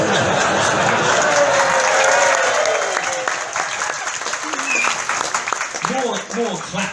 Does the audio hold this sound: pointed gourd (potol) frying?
no